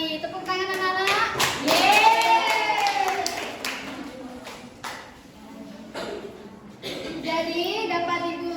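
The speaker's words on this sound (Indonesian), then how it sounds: "Tepuk tangan anak-anak." Children in a classroom clap their hands in a patterned burst mixed with loud chanting and cheering voices, then a few scattered claps, close and reverberant.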